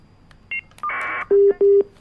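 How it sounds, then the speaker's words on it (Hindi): Telephone line tones sound as a viewer calls in to a Hindi television news debate: a few short beeps, then a buzzy tone burst and two loud, evenly spaced ringback-like pulses, clear and close. "कल्पना हमारे साथ जम्मू से एक दर्शक फोन लाइन पर जुड़ चुके हैं।"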